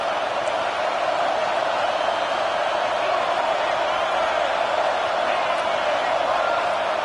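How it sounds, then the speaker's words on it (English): A home crowd roars in a college football video game, Virginia Tech at Clemson, as a steady, loud, unbroken wash of noise with no pauses. "how nice is it to have the home crowd going absolutely bananas?"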